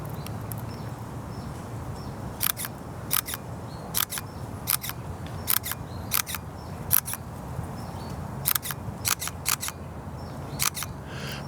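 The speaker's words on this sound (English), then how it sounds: "I really dislike the shutter sound on this GX7" A Panasonic GX7 camera shutter fires repeatedly in quick pairs of crisp mechanical clicks, close and loud, spaced across a quiet room hum.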